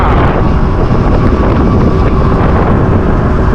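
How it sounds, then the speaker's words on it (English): Strong wind buffets the microphone while street riding an e-bike, a steady, loud roaring rush with no pauses, drowning out everything else. "It's windy out here."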